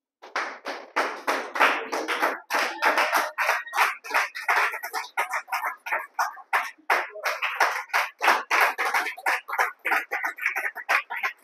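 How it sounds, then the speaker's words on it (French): Congregation at an evangelical church service clapping in acclamation, a brisk run of individual hand claps in irregular rhythm, close and lively, without talk. "Je veux qu'on donne une acclamation à Jésus."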